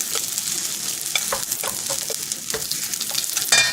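Beef jeon (Korean yukjeon) fries in a hot pan with a constant close sizzle, broken by scattered sharp crackles and the occasional scrape of stirring.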